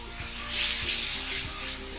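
Ginger garlic paste sizzles loudly in a hot pan for murtabak, a dense continuous crackling hiss with a few soft scraping stirs underneath.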